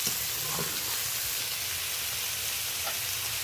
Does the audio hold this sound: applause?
no